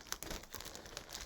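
Model kit packaging is torn open by hand, giving a quick series of faint, close crinkles and rips in short bursts.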